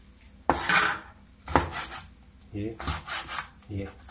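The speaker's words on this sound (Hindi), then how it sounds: "ऐसे हम सारा चिकन काट लेंगे" A knife cutting chicken into cubes on a board, a few separate loud scraping and rasping strokes about a second apart, close, with no talking.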